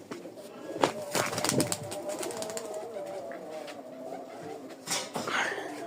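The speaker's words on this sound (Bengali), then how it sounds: "এগুলো সব বাজির কবুতর" Flying-breed pigeons in a home loft coo in low, rolling bursts, with scattered clicks and shuffling nearby and no voices.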